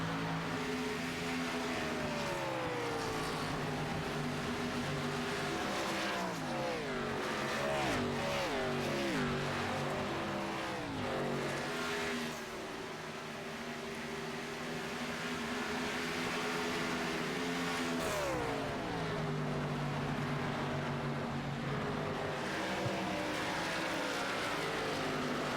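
Race cars in a motor race sweep past one after another, their engine notes rising and falling in long pitch glides as they approach and pull away, a steady continuous roar with no talk.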